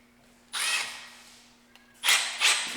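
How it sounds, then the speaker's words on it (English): A power drill with cobalt step bits bores holes for a Jeep Wrangler front cage build, giving two close, high whirring bursts separated by a quiet pause and a small tap. "then I'm gonna drill 3 holes"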